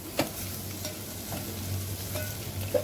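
Bitter gourd curry seasoned with salt is stirred in a hot pan. A utensil scrapes in a few scattered strokes over a low, steady sizzle of frying, close by, with no talking.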